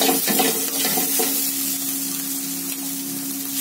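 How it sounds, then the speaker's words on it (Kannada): Ginger garlic paste frying in oil on a low flame for egg fried rice, a close, steady sizzle with a few stirring scrapes in the first second, no voices. "ವಾಸನೆ ಹೋಗುವಷ್ಟು ಫ್ರೈ ಮಾಡ್ಕೊಬೇಕಾಗುತ್ತೆ ನೀವು ಜಿಂಜರ್ ಹಾಗೂ ಗಾರ್ಲಿಕ್ ಪೇಸ್ಟ್"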